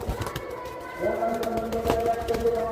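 Pigeons squabbling over food give close, throaty coos and grunting calls amid scuffling, while a loudspeaker voice and other human speech carry on in the background.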